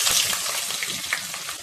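Onion slices fry in hot oil in a kadai for prawn biryani, giving a loud, steady close-up sizzle with occasional crackles and stirring scrapes, no voices.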